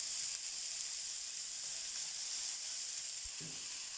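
Peppers added to half-cooked onions fry in a pan as part of an empty-cupboard pasta, giving a steady, close, bright sizzle throughout with a soft thump near the end.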